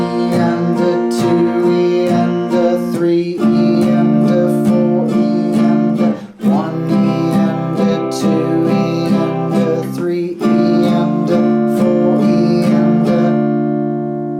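Acoustic guitar strummed in a steady rhythmic pattern through the bridge chords of a song, bright and close, with brief pauses at chord changes and no voices.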